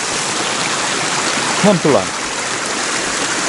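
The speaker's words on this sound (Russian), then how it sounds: "Смотрите, какой напор воды." A strong stream of water flows with a heavy, steady rushing roar close by, and a brief spoken phrase cuts in partway through.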